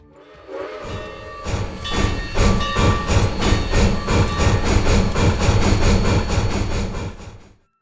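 A train rumbles past with rhythmic clattering of wheels, loud and close, while a whistle sounds over the steady chugging before it fades out.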